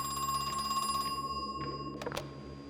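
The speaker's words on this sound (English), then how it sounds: "Where's the phone ringing from?" In the horror video game Crow Country, a ringing telephone trills briefly over a low ambient drone and then cuts off, followed by a couple of short, sharp clicks or knocks.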